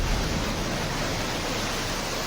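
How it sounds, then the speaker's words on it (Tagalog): One-metre waves pound a seawall along a coastal barangay in Catanduanes, merging into a continuous, dense roar of surf and spray with no distinct breaks. "Ang alon na may taas na 1 metro, galit na humahampas sa seawall."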